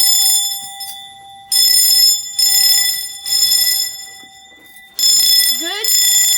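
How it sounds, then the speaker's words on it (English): Fire alarm bells ring loudly in repeated bursts with short gaps during a test of a home fire alarm system, steady metallic ringing, with a brief rising electronic tone near the end. "So now I just have to pull this and let's ring the bells."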